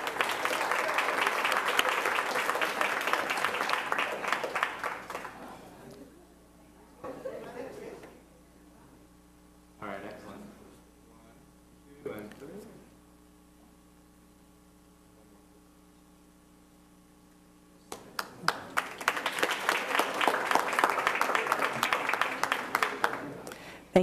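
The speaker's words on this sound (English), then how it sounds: "let's give them all a round of applause" An audience applauds in a dense wash of clapping that fades out, a few isolated bursts follow over a low hum, then the applause swells up loudly again.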